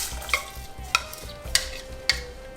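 Onions frying in a pan as water with Maggi stock is added, producing a steady sizzle under four evenly spaced stirring scrapes, each with a light metallic clink, close and moderately loud.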